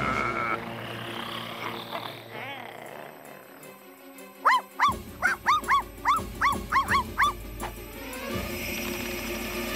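Cartoon dogs barking in a rapid run of about ten sharp, loud yaps, set between stretches of animated-show music and effects.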